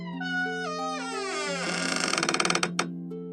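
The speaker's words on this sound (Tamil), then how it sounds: "பாட்டியின் வீட்டின் பின்பக்க கதவு பலமாக திறக்கும் சத்தம் கேட்கிறது" The back door of a grandmother's village house is forced open at night with a long, wavering, drawn-out creak of rising and sliding tones. It breaks into a quick series of rattling clicks before stopping, loud and close, with no voices.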